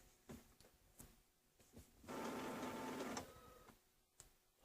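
Small Epson inkjet printer running indoors, a quiet mechanical whir that swells for about a second of steady feed noise, with faint clicks and taps before and after.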